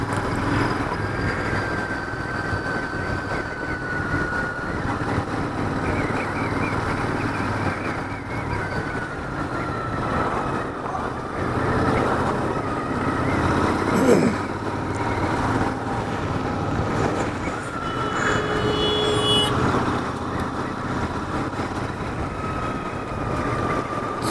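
A motorcycle rides along a road near Jim Corbett National Park, its engine droning steadily and loudly throughout with heavy wind rush and no talking.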